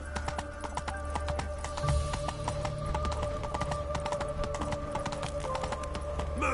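Roach the horse gallops in The Witcher 3 with fast, steady clip-clop hoofbeats over a low droning game soundtrack. No voices.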